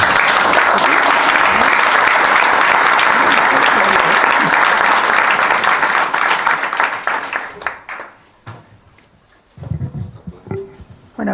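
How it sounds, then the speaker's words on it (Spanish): Loud, dense audience applause fills a lecture hall at a literary conference for several seconds, then thins out and fades into scattered claps, shuffling and room noise. "Un aplaudiment."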